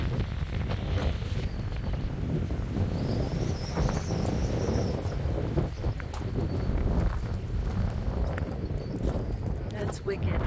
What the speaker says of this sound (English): This video is very windy